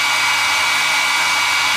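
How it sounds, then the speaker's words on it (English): A hair dryer on its heat setting, used to warm a miniature figure's axe, blows steadily and loudly with an even, breathy roar and a faint high whine, with no talking. "heat the axe up first by using the heat setting on the hairdryer"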